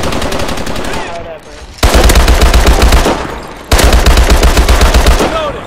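Loud automatic gunfire in a Call of Duty: Advanced Warfare multiplayer match, rapid continuous bursts of shots that pause briefly twice before the firing resumes, close and dominant.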